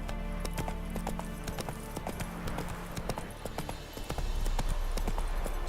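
Rapid clip-clop of the horse Roach galloping across terrain in The Witcher 3: Wild Hunt, with steady hoofbeats and a short whinny, ending in a louder burst of movement as the horse slows.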